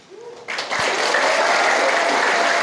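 Applause from a seminar audience at a pesantren, Riyadlul Huda in Kuningan, swelling in after a brief moment into dense, steady clapping that fills the room and holds loudly to the end.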